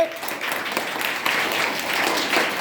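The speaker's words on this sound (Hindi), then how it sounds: "तुम्हारे विद्यालय के गुरुजी के लिए, शिक्षक महोदय के लिए भी ताली बजाएंगे।" Schoolchildren applauding their teacher at a Hindi Diwas honour event, a steady burst of clapping from a group that holds through the whole clip, with faint voices mixed in.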